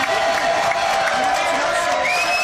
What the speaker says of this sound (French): allez, applaudissements pour Manuel